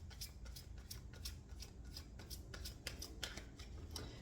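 Tarot clarifier cards are shuffled in a soft, steady riffling patter that runs the whole time, quiet and close, with no talking.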